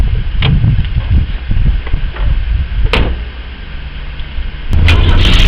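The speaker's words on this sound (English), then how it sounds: "what we have here is a 1982 Ford Cortina" A 1982 Ford Cortina driving, its engine a low rumbling drone under cabin noise, with a few sharp knocks and clunks and the engine note swelling louder near the end.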